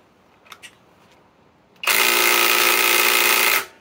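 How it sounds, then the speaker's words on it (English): A Kobalt 24-volt right angle impact wrench fires up after a couple of faint clicks, giving a loud, steady high buzzing rattle for about two seconds before cutting off, close to the listener. "This is my KOBALT 24 volt max right angle impact wrench."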